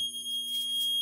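A Firelite MS4424B fire alarm panel sounds a steady, piercing electronic tone with a continuous high pitch and faint harmonics, held unbroken throughout the brief moment.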